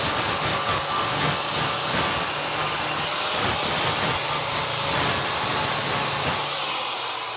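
A flap disc on a grinder works a steel pipe flange with a continuous, loud abrasive whine and rasp, running steadily for several seconds before tapering off at the end.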